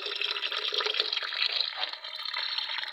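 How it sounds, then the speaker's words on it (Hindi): Water gushes steadily into a washing machine tub, a close, continuous splashing pour with a bright, bubbly hiss. "ये मैंने पानी भर रही है"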